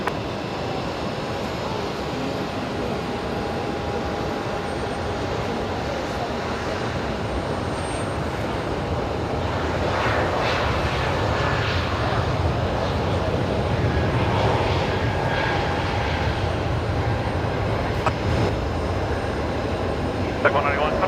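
An Airbus A321neo jet rumbles on the runway at Brisbane Airport, a steady broad engine roar that swells slightly midway and holds at a moderate distance, with radio chatter faintly present.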